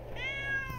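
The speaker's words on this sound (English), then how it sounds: "there's a kitten" A kitten in a video game gives a single short, high meow that rises and then falls, clear over a low, steady game background hum.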